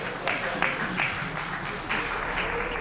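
An audience applauds with steady, dense clapping that swells in a few bursts across the whole stretch, fairly loud, with a voice faintly present beneath it.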